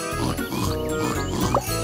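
Pigs oinking and grunting on a farm in a Thomas and Friends video game, a few short cartoonish snorts over light game music, loud and close.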